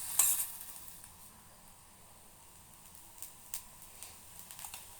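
Carrot dosa sizzles softly in oil on a pan, a faint steady crackle with small pops and a few light scraping touches.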